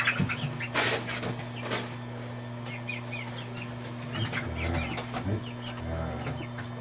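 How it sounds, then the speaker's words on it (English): Hens cluck in a cage, with short soft clucks and squawks scattered over a steady mechanical hum, fairly close, no talking. "Good big bad hen."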